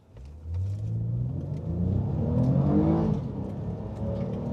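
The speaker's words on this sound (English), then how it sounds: "In sport mode, I'm just gonna roll into the throttle because we don't have much grip with these crappy tires." An eighth-generation Toyota Camry V6 accelerates in sport mode on worn, low-grip tires, the engine note climbing smoothly in pitch and loudness as the revs build, heard from inside the car.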